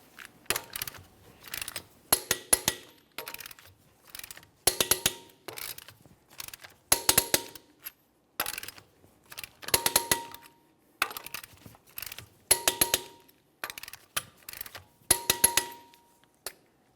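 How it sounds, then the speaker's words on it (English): Torque wrench tightening the wheel lug nuts on a GMC Acadia to 140 foot-pounds in a crisscross pattern, heard as repeated bursts of sharp metallic clicks and ratcheting with short pauses between nuts, close and clear with no talking. "we'll torque these in a crisscross manner"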